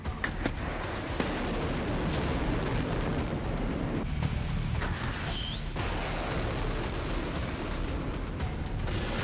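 Houthi missiles are intercepted in the sky over Israel by anti-ballistic missiles, with a dense, continuous roar of distant booms and rumbling blasts, plus occasional sharper cracks, across the whole stretch.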